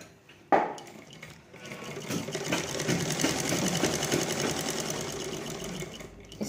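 Sewing machine running steadily after a sharp start, stitching the tucks of a blouse, a close continuous whirring drone with no talk.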